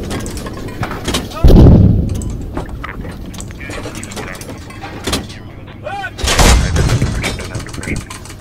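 Leopard 2A6M tank cannon firing at a BMP in a squad tank game: two heavy booming shots with rumbling tails over engine noise and radio chatter, people talking throughout.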